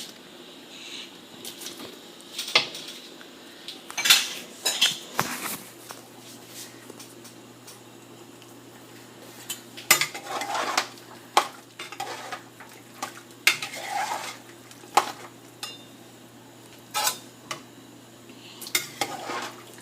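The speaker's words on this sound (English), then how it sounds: "I'm going to add half of the vegetables only that I had boiled" Boiled vegetables added to a mutton stew pot, with irregular clinks and knocks of a utensil against the pot and soft wet stirring over a low simmering hum, no talking.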